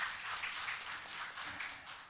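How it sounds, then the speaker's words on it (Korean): Church congregation applauding a returning deacon during a Sunday service, a steady wash of many hands clapping together, fairly faint and even throughout with no voices over it. "우리 박수 한번 해주시기 바랍니다"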